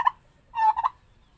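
A male turkey gobbles once, a short, loud rattling call made of a quick burst followed by two rapid warbling notes, close by with no talking over it.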